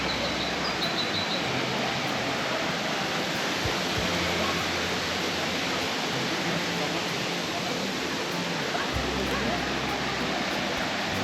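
Mountain waterfall in Ariège, France, rushing as a loud, steady broadband roar that fills the whole clip with no pauses. It is heard up close, with no clear talk over it.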